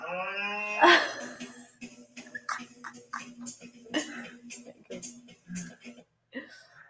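A Highland cow gives one low, drawn-out moo at the start, followed by quiet clicks and faint murmuring.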